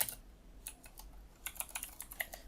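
Keystrokes on a computer keyboard entering data in MySQL, quick close clicks in uneven bursts that grow denser toward the end, alone in a quiet room.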